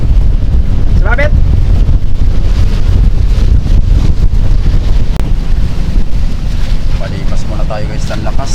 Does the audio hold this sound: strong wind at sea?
yes